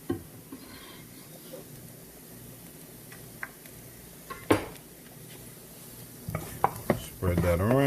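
Garlic going into a pan of onions that are sautéing until translucent, with a few scrapes and clinks of a utensil on the pan, a sharp knock midway, then brisk stirring and clattering near the end, moderately loud and close.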